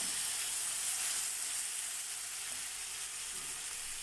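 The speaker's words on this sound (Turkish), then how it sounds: "yumuşayana kadar pişireceğim domateslerimi" Tomatoes cooking in a pan, a steady bright sizzle and hiss with faint stirring, close and continuous with no one talking.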